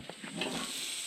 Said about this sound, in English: Sausage sizzle for lunch.